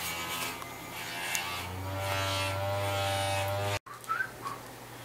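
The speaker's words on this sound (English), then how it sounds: "as the pitch gets higher and higher, that is the color wheel which has gone bad." Failing color wheel inside a Samsung DLP television whines steadily, a tonal buzzing hum that rises in pitch, then cuts out abruptly near the end, followed by faint squeaks.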